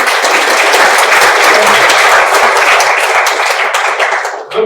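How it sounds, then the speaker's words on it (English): Dense, steady applause from an orientation audience at an engineering college fills the hall, loud and sustained throughout before tapering slightly at the end, with no talking over it. "Good clap."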